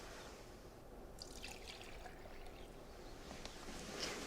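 Vegetable oil pours into a measuring cup for cake batter, giving a soft, steady liquid trickle that runs for a few seconds at close range, with no talk over it.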